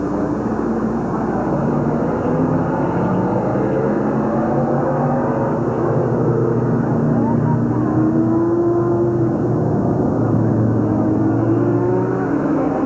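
Race cars circling the Midvale Speedway oval in 1985, a dense continuous engine roar with rising and falling pitch sweeps as cars pass, steady and loud throughout.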